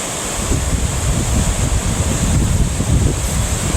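A river runs alongside the village of Chimney Rock, North Carolina, in winter, producing a loud, steady rushing flow with wind buffeting the microphone and no voices.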